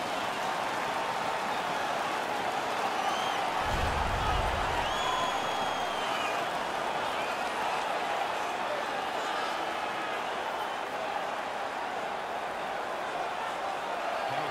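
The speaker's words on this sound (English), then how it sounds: "Their man's won the fight. The crowd is ecstatic." Ecstatic arena crowd in the ice hockey video game NHL 16 roars after a home player wins a fight, a dense steady wash of cheering and applause that stays loud throughout, with a brief low thump near the start.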